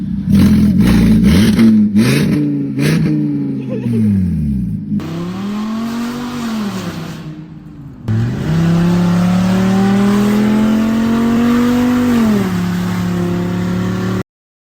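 Straight-piped car exhaust with an added tip, sounding like a small V10, revs repeatedly with rising and falling pitch, loud and close, then holds long sustained revs.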